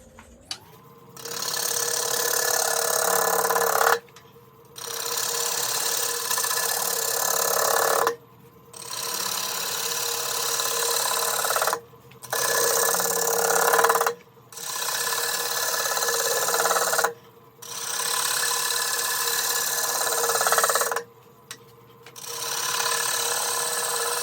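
A wood lathe spins an out-of-balance camphor bowl blank at about 550 rpm, giving a loud, rough, pulsing whir in long bursts separated by brief quiet gaps, with no talking.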